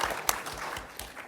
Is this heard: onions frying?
no